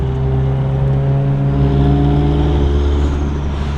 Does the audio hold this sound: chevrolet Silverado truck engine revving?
yes